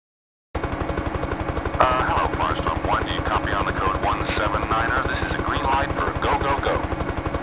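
Helicopter rotors in the PlayStation game Firestorm Thunderhawk 2 thump in a fast, steady, loud pulse, with bursts of gunfire and a voice speaking over the din.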